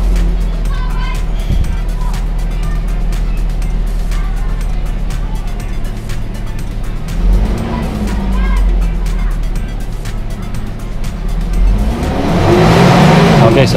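Gasoline engine of a Toyota Innova revving up near 4,500 RPM, a loud steady drone that climbs in pitch toward the end, heard up close.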